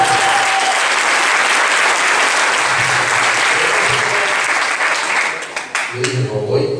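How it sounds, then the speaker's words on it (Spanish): Audience applause at a business orientation talk, loud and sustained broadband clapping from a large crowd for nearly seven seconds, thinning slightly toward the end as a voice begins to speak. "Un aplauso para mi amigo Edgar."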